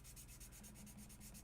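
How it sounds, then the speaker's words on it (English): A sanding block rubs back and forth to smooth a bevel, making a soft, rhythmic scratchy hiss. The close, quiet strokes repeat evenly with no talking. "I'll take like a sanding block and then just kind of do this type of thing, and that smooths everything out"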